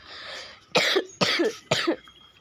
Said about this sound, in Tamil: ஏன் ப்ரோ இப்படி இருமுனேன்னு கேட்டிங்கன்னா தொண்டை கட்டிக்கிச்சு